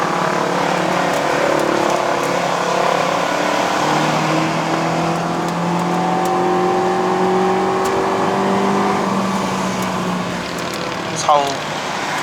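A 2016 Mazda 3 sedan with a 2.0 engine revving hard at high rpm on an uphill mountain drive, its engine note climbing steadily in long rising sweeps, loud and sustained from inside the car, with a brief knock near the end.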